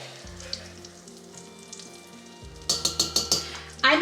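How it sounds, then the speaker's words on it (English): Cornstarch is stirred into melted butter for a pork loin glaze, a low hum and faint sizzle at first, then a run of rapid rhythmic clinks and scrapes as a utensil whisks against the pan, ending in a louder burst. "So we're going to stir this in until the cornstarch is well combined."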